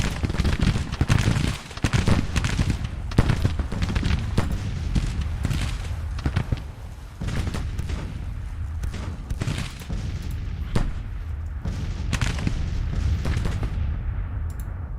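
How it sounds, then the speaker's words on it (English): Cannons fire canister shot in Grand Tactician: The Civil War, an 1863 battle, with dense overlapping booms and crackling volleys rolling on continuously, some blasts near and sharp and others distant, at a loud level throughout. "I'm just standing in front of the artillery taking canister fire"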